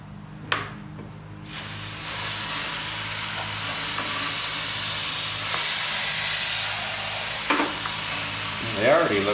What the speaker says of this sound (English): let's spray that off.